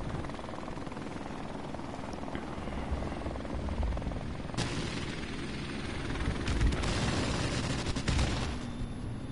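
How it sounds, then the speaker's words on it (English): A helicopter's rotor thrums continuously in a PS4 video game, loud and close, with bursts of gunfire crackling over it in the second half; no speech. "Hey, my helicopter's still here."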